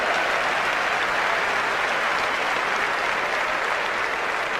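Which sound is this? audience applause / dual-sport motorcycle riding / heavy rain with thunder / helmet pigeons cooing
audience applause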